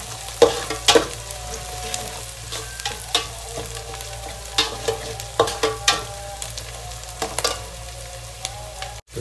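Chopped onions sizzle and fry in a pan for okra curry, a steady close hiss broken by repeated sharp clatters and scrapes of stirring, with no one talking.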